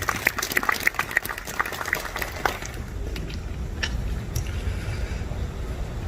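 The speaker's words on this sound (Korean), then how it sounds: "여러분 박수로 환영해 주시기 바랍니다." Audience at a ceremonial event applauding to welcome a speaker, a burst of clapping that starts strong and tapers off into quieter room noise.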